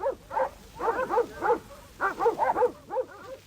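Sheepdogs bark during a muster of 4,000 ewes moved from backcountry to the coast, a close, loud run of rapid repeated barks in two bursts with a short gap between.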